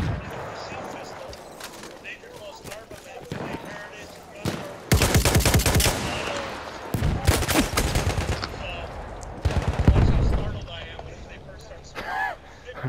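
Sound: machine gun fire in Battlefield 1 video game

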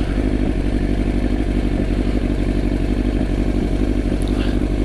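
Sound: motorcycle passing on the road

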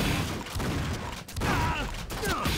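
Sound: gunfire from enemies shooting bolts in video game Painkiller

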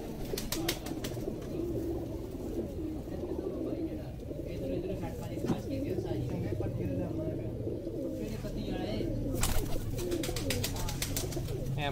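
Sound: pigeons cooing

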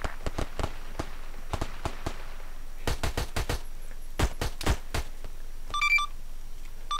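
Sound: gunshots in a video game (A3PL roleplay)

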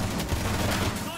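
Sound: gunfire in video game Rainbow Six Siege

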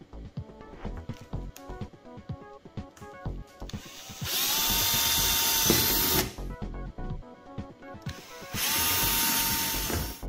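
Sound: drilling through plastic with drill

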